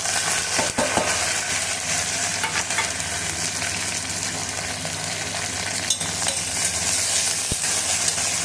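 Cumin, curry leaves, green chili and onion frying in hot oil in a pan, a steady close sizzle that fills the whole stretch, with occasional scrapes and clinks of a spoon stirring.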